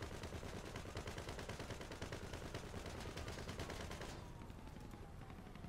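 Tank gun fire in the video game Grand Theft Auto V, a dense, continuous barrage of loud rapid shots filling the scene, then tailing slightly near the end.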